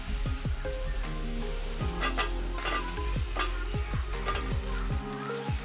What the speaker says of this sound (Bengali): টমেটোটাকেও আমি হালকা করে ভেজে নেব